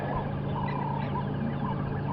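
A large bird's morning duet call at a safari reserve, low repeated booming notes with a steady rumbling background, moderately faint and continuous.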